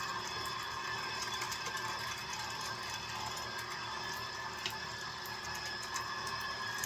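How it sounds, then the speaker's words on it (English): A meat grinder churns farm fresh chicken through its auger in a steady, continuous mechanical whir with a faint liquid-like wash running under it, close and unbroken throughout. "You want to let the grinder do the majority of the work here."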